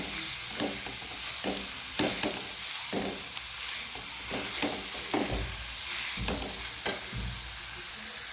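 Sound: stir-frying grated mango for murabba in a pan

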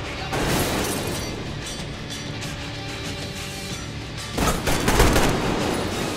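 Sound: shotgun blast in video game Metro Exodus

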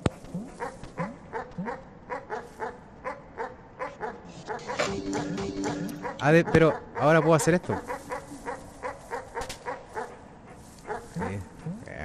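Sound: dog barking in video game Animal Well

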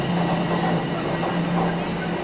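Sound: train arriving at Union Station platform, Toronto

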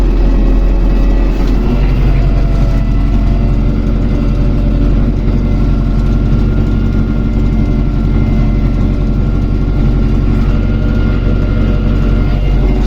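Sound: MTZ-82.1 tractor engine while ploughing a field

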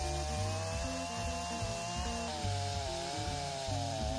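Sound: chainsaw cutting notches into fallen tree logs

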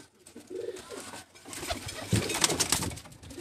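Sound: pet pigeons cooing

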